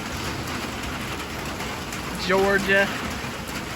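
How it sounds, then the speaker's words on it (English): Steady rain falls outdoors by a garden, a constant even hiss throughout, with someone talking briefly over it. "And now it's raining, which we need down here."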